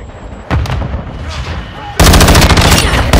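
Gunfire and an air strike in a military shooter game: a sharp burst of shots, then a sudden loud stretch of rapid, pounding automatic fire and blasts close by.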